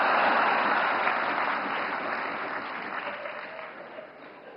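An audience at a Navkar Mahamantra Day event in Ahmedabad applauds in a broad, steady wash of clapping that slowly fades over several seconds, with no talk over it.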